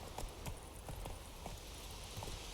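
Horse hooves clip-clop in a steady walking rhythm in The Witcher 3, fairly close and clear, with ambient game background underneath and no talking.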